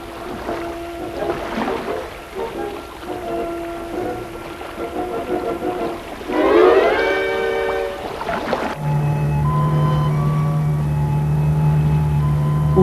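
Whale song recorded underwater during a dive alongside the whales: drawn-out tonal moans and rising, harmonic-rich cries that swell in the middle, then give way to steadier sustained tones, all set against a murky background hiss.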